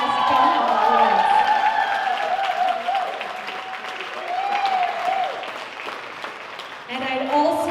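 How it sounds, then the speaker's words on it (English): A gala crowd at the Viet Film Fest Trống Đồng Awards applauds loudly for the award recipients, with sustained clapping and some cheering under a loud voice and music. "please join me in congratulating all the award recipients of this year's Viet Film Fest Trống Đồng Awards."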